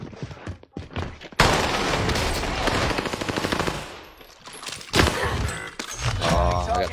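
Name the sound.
gunfire in the video game Warzone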